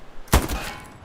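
A single sharp, punchy gunshot from the video game Hell Let Loose, one brief impact with a short decaying tail, heard alone.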